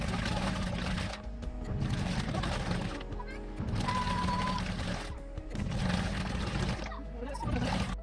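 A compact washing machine inside a camping car runs its wash cycle, the motor droning in regular surges roughly once a second with short dips between them and a brief tonal whine midway.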